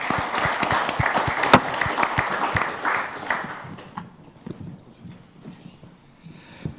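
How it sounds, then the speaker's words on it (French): An audience at a Paris Air Forum defence panel claps briskly for a few seconds, individual hand claps standing out, before the applause thins and fades to quiet room noise. "Je vous demande de l'applaudir."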